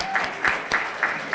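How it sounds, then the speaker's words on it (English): Brief burst of audience applause for a college president at an honors event, a few distinct claps with crowd noise, moderately loud. "Give him the applause."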